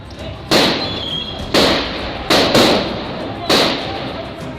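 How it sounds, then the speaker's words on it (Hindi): In a dramatized police shootout, gunfire rains down from above: four loud, sharp cracks, spaced about a second apart, each with a short echoing tail over a low background. "अचानक ऊपर से गोलियां बरसने लगीं।"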